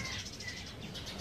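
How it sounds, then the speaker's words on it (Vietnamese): Several birds chirp and call around a riverside house, a busy mix of close and distant song running steadily through the whole short stretch with no voices. "Rồi có mấy con chim đẹp không nè, sáng giờ hót khắp nơi."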